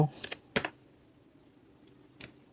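A few sparse keystrokes on a computer keyboard while Python code is typed, quiet clicks in a short cluster, then a single later tap.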